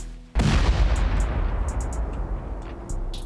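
A large explosion from C4 charges and a rocket in a video game raid bursts in abruptly, then a heavy, rumbling roar and crackling debris carry on loudly with no talk.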